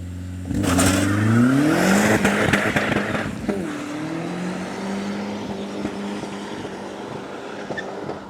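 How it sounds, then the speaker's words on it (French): A stage 2 tuned Audi A3 1.8L 20V turbo engine revs up and pulls away with a rising whine, then settles into a steady drone heard from outside at moderate distance. "Tu veux que je filme une accélération d'extérieur ou pas?"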